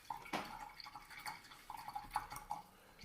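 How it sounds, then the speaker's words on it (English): A paintbrush is rinsed in a small pot of water, giving faint, close, irregular drips, clinks and light sloshing with scattered taps against the container. "So let's wash that brush."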